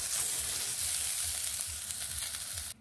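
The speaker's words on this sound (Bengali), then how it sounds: "বিনসগুলোকে ঠিক এইরকমভাবে ভেজে নিলাম।" Beans frying in oil in a pan, a steady, close sizzle that runs unbroken throughout and cuts off at the end.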